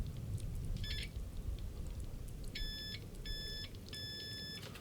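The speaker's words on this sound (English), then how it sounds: "and one here, you get a beep." A multimeter's continuity tester beeps on a Harley Benton guitar kit's wiring, giving three short high-pitched tones, one brief and two steady, over a low background hum.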